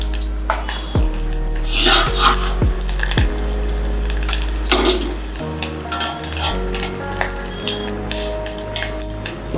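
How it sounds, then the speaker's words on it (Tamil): Small coconut pieces fry in hot oil in a pan for sweet pongal, a steady close sizzle broken by scraping stirs and clinks of a spoon against the metal pan, with no talking. "அந்த தேங்காய் ஃப்ரை பண்ணியாச்சு"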